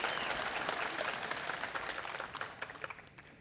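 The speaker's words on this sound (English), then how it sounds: "a round of applause for that" A crowd at an art college commencement applauds arts funding, dense clapping that starts full and gradually thins toward the end, with individual claps becoming distinct.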